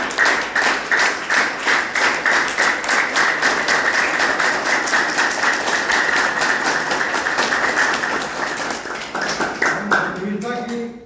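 Loud, sustained clapping from a large audience at a satsang gathering celebrating the opening of a new building, a steady rhythmic roar that carries for several seconds and then thins out toward the end.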